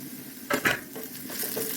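Ginger and green chillies fry in coconut oil in a pan, a close steady sizzle broken by a couple of sharp stirring scrapes, with no talking.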